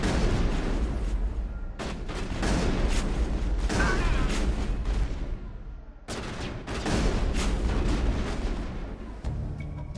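Gunfire in a Mass Effect battle against ExoGeni mercenaries, with loud, rapid bursts of shots and booms in two long volleys broken by a short gap.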